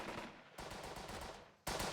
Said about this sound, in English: have Stern open fire with the MG